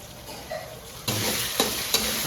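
Onions frying with ginger garlic paste for a crab curry: a quiet pan gives way to a loud, close sizzle about a second in, with two sharp scraping stirs cutting through it.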